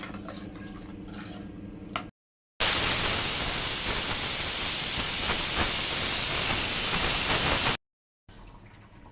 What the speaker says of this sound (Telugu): ఇప్పుడు నేను ప్రెషర్ కుక్కర్ 5 విజిల్స్ వచ్చే వరకు పెట్టుకుంటున్నాను.